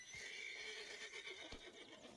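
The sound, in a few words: horse neighing in Red Dead Redemption 2 video game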